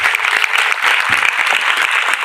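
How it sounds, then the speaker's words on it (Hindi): An audience at a government girls' senior secondary school event in Rewari claps in a dense, lively burst of applause, close and loud, sustained across the whole stretch without let-up. "जोरदार ताली एक बार।"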